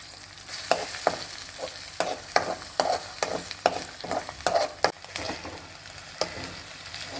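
Egg frying and being stirred in a pan for egg fried rice, a steady close sizzle broken by repeated sharp scraping strokes of the spatula.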